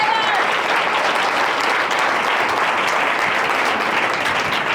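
Steady, dense audience applause in a church service, loud and continuous throughout with no clear speech on top.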